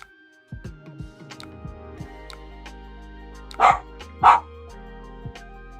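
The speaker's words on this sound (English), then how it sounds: "I don't know why Fitz is barking, and I apologize." A dog barks twice in quick succession partway through, loud and close, against a background of clattering and low room noise.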